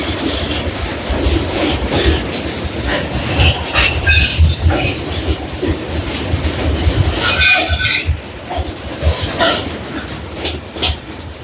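A train rolls off the Kiul bridge near Lakhisarai toward Kiul Junction, heard from inside a carriage as a loud continuous rumble with rhythmic wheel clatter and occasional metallic squeals, no talking.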